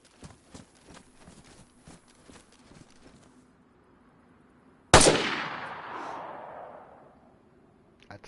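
A single loud pistol shot in the game DayZ, sharp and close with a long decaying echo, after a stretch of faint ticking ambience, no talking.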